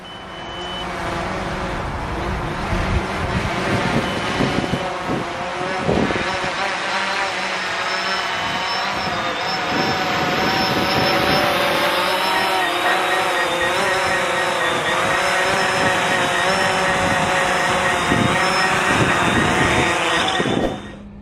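A professionally flown drone comes in to land, its rotors giving a steady, loud whirring hum with shifting tones that holds for about twenty seconds before cutting off at the end.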